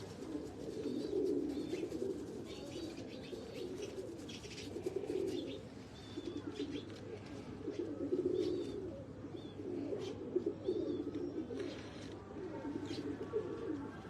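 Breeder pigeons in a Faisalabad loft, including a hen ready to lay an egg, coo in repeated low rolling phrases with occasional faint chirps and flutters throughout.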